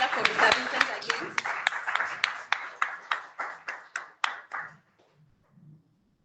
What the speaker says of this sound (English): Let's clap for Mr. Vincent again.